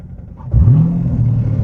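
A C7 Corvette, reportedly damaged, revs up while driving, a deep low engine rumble that surges suddenly and then holds a steady loud drone.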